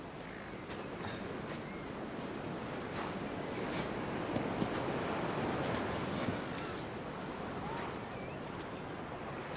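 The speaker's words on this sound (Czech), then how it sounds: "Krásný vlny." Ocean surf breaking and washing along a beach where surfers ride, a steady, full roar of churning water with wind noise across the microphone, continuous and fairly loud throughout with no speech.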